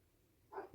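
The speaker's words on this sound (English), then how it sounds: "that dog that just barked is not mine" A single short, faint dog bark sounds at a distance, following a stretch of quiet background.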